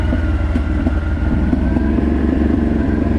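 Honda 600 Transalp motorcycle riding down a small descent, its engine droning steadily and loud throughout with a faint intermittent crackle of exhaust popping mixed in.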